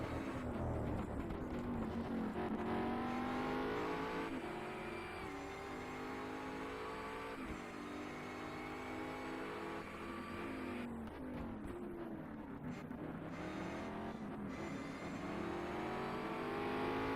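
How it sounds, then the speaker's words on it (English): Mosler MT900R GT race car engine in the racing game Race Pro, a sustained droning roar with rising and falling revs through gear changes, mixed fairly quietly and continuous throughout. "my engine is being completely drowned out by the CPU"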